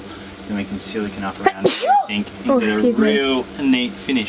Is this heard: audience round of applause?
no